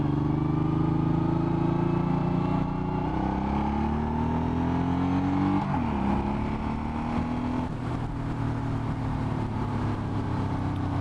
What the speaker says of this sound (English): Bike accelerates very nicely though.